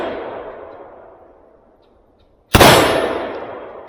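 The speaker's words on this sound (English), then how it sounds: "And I'll show you what the muzzle blast is. It's pretty loud" A single sharp, very loud muzzle blast from an AR-15 SBR firing 5.56 reloads with pistol powder and steel-cased 55 grain bullets, a sudden crack with a ringing decay, preceded by a fading earlier report.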